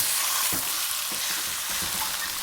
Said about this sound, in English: allow this to sear really well and keep stirring it every now and then for at least 4 to 5 minutes